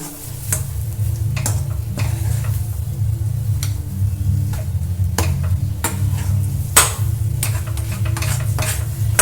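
Asafoetida being stirred into a kochuri filling in a pan, a steady sizzling bed with repeated scraping clicks of the spoon against the metal, close and loud with no talking.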